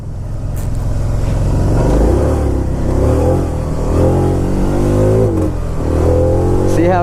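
A Can-Am side-by-side, the automatic version, revs hard and close, its engine note rising and then cutting back in repeated surges as traction control kicks in, steady and loud throughout.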